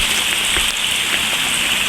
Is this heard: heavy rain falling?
yes